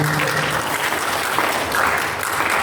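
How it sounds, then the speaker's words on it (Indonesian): Guests at a church wedding blessing applaud the newly married couple, a steady, dense clapping from a crowd that keeps going throughout. "berikan tepuk tangan kepada mereka."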